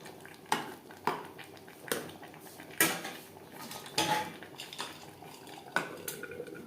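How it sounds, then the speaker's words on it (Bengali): Aloo mutton curry being stirred in a pan over a high-to-medium flame, a spoon repeatedly scraping and knocking against the metal in irregular clanks and scrapes, fairly close but quiet. "অবশ্যই এভাবে নাড়াচাড়া করে দিতে হবে।"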